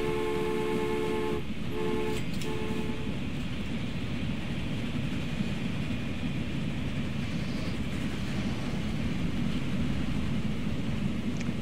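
A small passenger train with two little carts running in a tunneling video game, a steady rumbling roll with a brief horn-like tone early on, continuous and moderately quiet.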